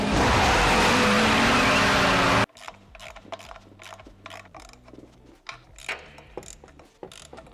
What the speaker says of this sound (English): Start the car. Full throttle.